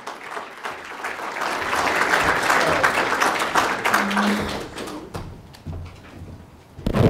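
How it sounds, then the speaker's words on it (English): An audience gives a round of applause for Mimi and Peter at a City Club event in Chicago, a full, even wash of clapping that swells, then tapers off toward the end. "Mimi and Peter, give them a round of applause."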